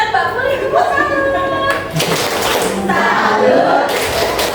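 A group doing the rhythmic Indonesian 'tepuk salut' clapping cheer in a classroom session, patterned hand claps blended with voices chanting and talking over them.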